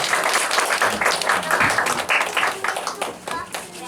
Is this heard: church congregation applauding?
yes